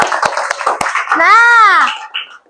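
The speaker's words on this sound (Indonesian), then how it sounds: "Tepuk tangan untuk hari ini." Primary schoolchildren in a fifth-grade classroom clap together in a few sharp, loud claps, followed by a drawn-out cheering call from the group that fades out.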